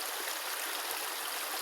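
River water rushes past in a steady, unbroken hiss, close and constant with no other sounds standing out.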